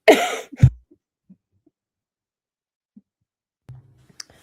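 A single sharp cough close by from a pollen irritation, followed by near silence with a few faint clicks and soft bumps.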